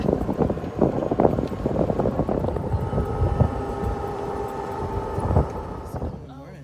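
A golf cart drives outdoors with steady wind buffeting and a low motor rumble throughout, and voices are faintly mixed in.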